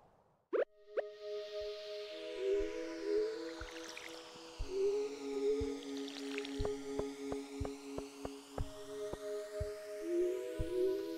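Water pours from a watering can in the Stardew Valley farming game, heard as a run of soft plops and drips over a sustained tonal game backdrop, fairly quiet with no talking.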